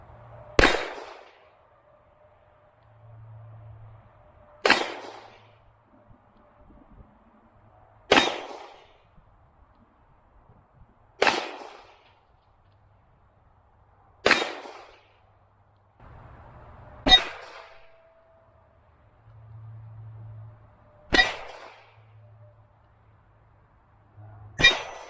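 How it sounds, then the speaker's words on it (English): Eight sharp, loud shots from a Taurus Judge revolver firing .45 Long Colt, each ending in a ringing clang off steel targets, spaced roughly every three to four seconds with quiet pauses between. "Now we're going to do the Judge, chambered in 45 long Colt."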